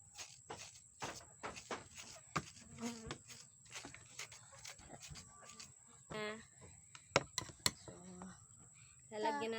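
Houseflies buzz close by in repeated short passes, under a constant high whine and scattered handling noises while people talk nearby during preparation of a banana and mango dish.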